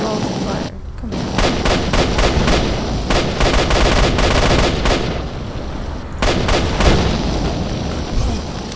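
Dense gunfire in a boss fight in the video game S.T.A.L.K.E.R.: Shadow of Chernobyl, loud rapid shots and bursts layered almost continuously, with brief lulls and heavy booms.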